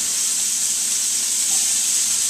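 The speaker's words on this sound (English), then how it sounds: "I'm going to put that in there and saute that up." Chopped onion sautés in a pot with a loud, close, unbroken sizzling hiss that holds steady throughout.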